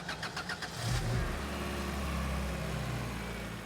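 VTEC-engined Chump race car entering the pits, its mid-pitched engine humming and rising slightly at moderate distance over a steady background rumble.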